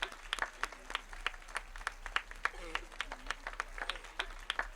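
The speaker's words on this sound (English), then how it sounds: "let's give them a round of applause" Scattered applause from family members and loved ones standing at a commencement ceremony, individual claps distinct and moderately distant, with a voice murmuring faintly underneath.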